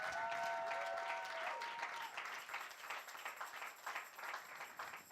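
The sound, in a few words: congregation applauding in church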